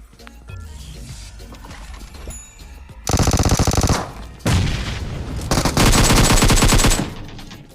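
Video game gunfire as an enemy squad is finished off: scattered shots give way to loud, rapid automatic bursts, several sustained volleys with brief pauses between them.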